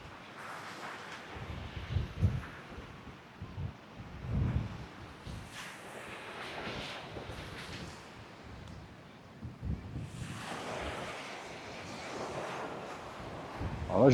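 Ocean waves and wind on the long beach at Morondava, Madagascar, at dusk, a faint wash of surf with gusty buffeting against the microphone and scattered footsteps, alone without talk.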